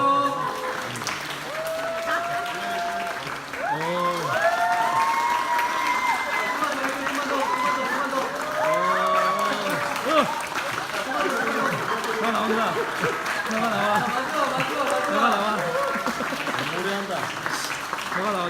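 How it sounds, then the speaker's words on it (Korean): Wedding guests break into applause, a broad patter of clapping that runs throughout, mixed with cheering voices and talk from the crowd. "자, 같이 아, 박수 해주세요"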